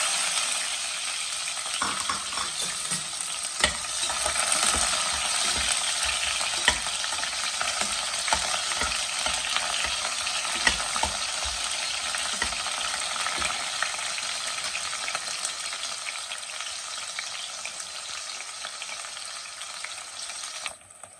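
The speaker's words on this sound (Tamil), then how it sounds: "பட்டை கிராம்பு சோம்பு ஏலக்காய் எல்லாத்தையும் போட்டுக்கிறோம் நல்லா பொரிய விட்டுருவோம்" Steady, loud sizzling and crackling of cinnamon, cloves, fennel, cardamom and onions frying in hot oil, with occasional stirring clatter over a continuous hiss; no talking.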